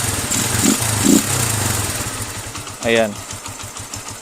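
A motorcycle engine fitted with a Nibbi 28mm carburetor idles steadily with a low, even putter, while someone talks over it and briefly blips the throttle near the end.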